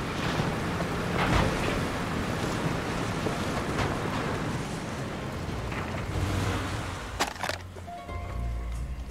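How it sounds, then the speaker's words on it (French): Rain in the video game Far Cry 2 hisses as a continuous, even wash of noise with a few sharper gusts, fading toward the end as the shower eases. "Ah, la pluie semble s'arrêter."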